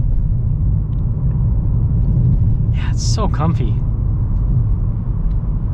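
A 2022 Nissan Kicks SV rolls over a bumpy, beat-up road, giving a steady low road rumble and muffled cabin drone throughout, with a person talking briefly over it near the middle.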